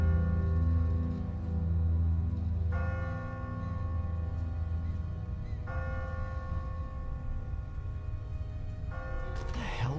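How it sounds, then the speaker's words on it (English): A church bell tolls repeatedly in The Walking Dead video game, each deep, resonant strike ringing out and sustaining over a low rumbling ambience, roughly every three seconds. "Ask not for whom the bell tolls."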